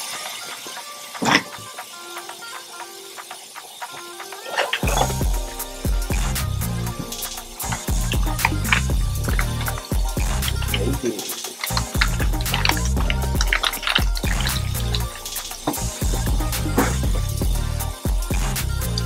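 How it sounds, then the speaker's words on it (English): Cold tap water runs into a pot of potatoes, starting after a quiet moment and then pouring steadily and loudly with splashing and gurgling at close range. "I'm gonna fill this up with water,"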